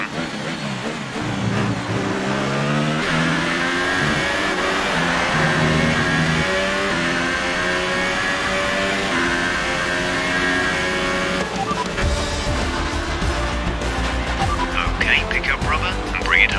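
A Ferrari Formula 1 car in the F1 2018 racing game drones loudly and continuously, its engine note rising and falling through gear shifts for the whole stretch, with voices talking over it.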